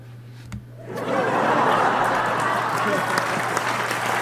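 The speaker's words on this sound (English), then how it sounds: "I know how to press the applaud button" Canned applause from an applaud button bursts in after a brief quiet start, a dense wash of clapping that holds steady and loud for about three seconds.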